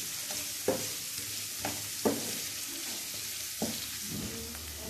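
Onions frying in a pan, a soft steady sizzle broken by a few sharp stirring clacks, quiet and close, with no voices.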